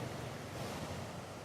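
Ocean surf and wind wash together in a steady, dense roar with no distinct breaks, a continuous outdoor rush of waves with buffeting wind noise and no talking.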